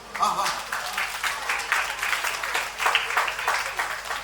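An audience at a motivational class claps together, a dense patter of many hands that swells and dips in waves, fairly close, with no clear talk over it.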